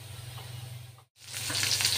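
Fish sizzling and frying in oil in a kitchen pan, a steady dense crackle that drops out briefly near the middle and then returns louder and brighter.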